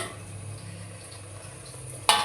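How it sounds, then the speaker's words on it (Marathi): A metal lid is lifted off a hot pot where kothimbir vadi has been steamed, giving one brief clank at the end after a low, quiet kitchen hum. "बघा आता मी उघडते झाकण काढून."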